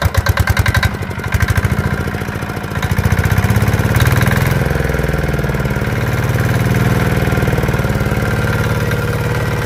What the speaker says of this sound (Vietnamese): Máy nổ im ru luôn luôn nha anh em, đứng xa khoảng 3 mét nè, thấy không?